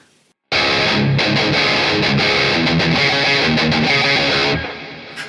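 An electric guitar plays through mixed delay and reverb effects, entering after a short silence with a loud, dense, sustained wall of distorted chords and repeating echoes that fade out toward the end.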